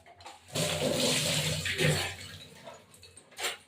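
Cut pieces of fish being rinsed under running water while cooking, a close, rushing gush of water lasting about two seconds, then tapering into smaller splashes and a final short spurt.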